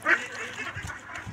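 Domestic laying ducks kept on a farm, a short burst of nearby quacking with one loud call at the start and softer quacks after.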